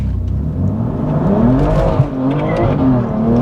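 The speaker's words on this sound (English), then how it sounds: "We've got lots of wheel spin." A tuned BMW M2 Competition with a custom map launches hard with traction control off, its engine roaring loud and close as the rear tires spin, the sustained drone rising steadily in pitch throughout.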